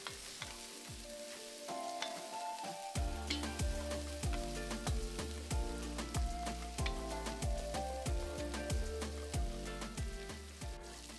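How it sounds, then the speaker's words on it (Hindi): Onions frying in a pan for mince mutton keema, a steady close sizzle and crackle with rhythmic scraping and clinking as the pan is stirred throughout. "प्याज ब्राउन होने तक हमें इसे अच्छे से भुनना है. बीच बीच में हम इसे स्टर करते रहेंगे."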